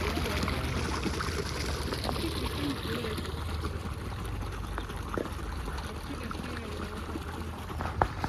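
Water flows at full volume through a farm irrigation channel, a steady broadband rush and gurgle that stays constant and close throughout.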